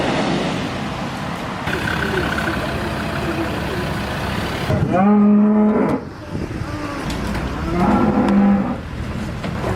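Cattle moo loudly in two long, bellowing calls, one after another, over the rumble of traffic and vehicles nearby. The animals are being led toward slaughter.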